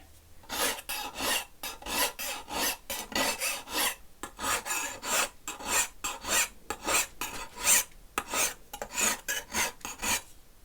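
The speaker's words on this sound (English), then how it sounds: "instead of a whetstone, I'm doing the bastard file, and that should take off in material as I go" A bastard file rasping back and forth along a chipped steel knife blade, steady rhythmic strokes about two per second, loud and close, each pass a bright harsh scrape with brief gaps between, no talk.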